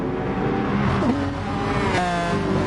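A McLaren race car in GT Sport roars steadily close by and sweeps past with a shift in engine pitch midway, loud and continuous.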